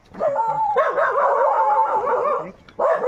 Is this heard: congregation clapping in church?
no